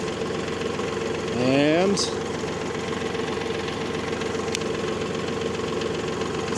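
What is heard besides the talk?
tractor engine idling while warming up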